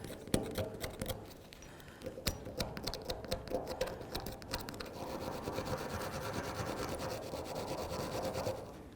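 A Jeep Liberty brake caliper bracket lip is scrubbed clean with a brisk, rasping back-and-forth rubbing, close and steady, in uneven strokes that grow denser and more continuous toward the end.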